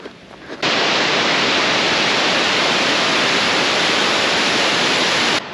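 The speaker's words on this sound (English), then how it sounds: "Looks like there's another waterfall over on this side." A mountain waterfall near Lake City, Colorado roars as a loud, broad, steady rush of falling water that swells in after a brief quieter moment and holds constant, close by with no talking.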